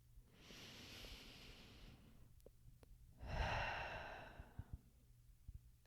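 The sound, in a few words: deep breath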